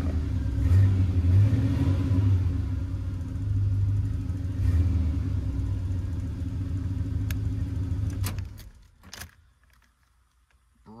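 Chevrolet Monte Carlo SS G-body engine idling with a steady low rumble for several seconds, then cutting off, leaving a brief clatter of keys or clicks and near silence.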